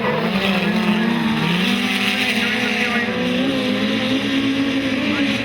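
Speedcars racing at night on the Maryborough Speedway oval in Queensland, including an ITR Ford, with engines droning loudly and continuously as they shift pitch through the turns, under a commentator's voice.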